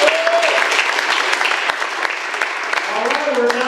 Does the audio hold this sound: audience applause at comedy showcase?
yes